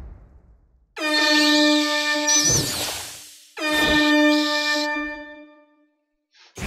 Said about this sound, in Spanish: Tendré que meterle un bocinazo.